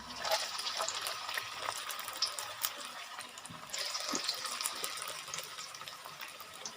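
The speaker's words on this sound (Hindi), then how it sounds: "हमारा जो ऑयल है ना वो परफेक्ट गर्म हो गया। अब हम इसमें एक एक करके ना अपने स्प्रिंग रोल एहतियात से ऐसे डालेंगे" Samosa spring rolls dropped one by one into hot oil, giving a steady broadband frying hiss with bubbling surges and no talk.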